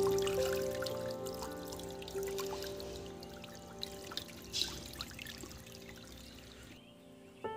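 Water poured to soak a roof being broken up for house building, a steady trickling pour running under a constant low hum, with a few louder splashes and clatters near the end.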